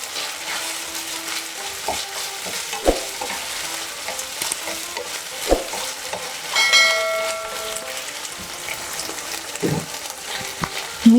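Chopped tomato and spices stirred and sautéed in a pan for moong dal with fish head, a steady low sizzle with scattered scrapes and clinks of the spoon against the pan, close and moderately loud.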